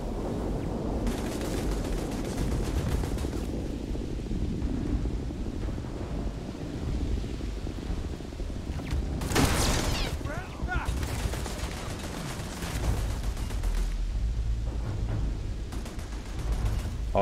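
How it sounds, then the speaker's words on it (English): Automatic turrets firing in the sci-fi game Starfield, a burst of gunfire bunched near the middle over a constant windy, mechanical background. "Oh, they're automatic turrets."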